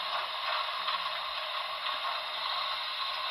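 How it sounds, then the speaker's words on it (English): An HO scale model steam locomotive's sound decoder, fitted to a NYC Commodore Vanderbilt Hudson, puts out an air pump effect. It is a steady, faint, hissing mechanical rush with slight flutter, playing alone without talk. "That's supposed to be air pumps."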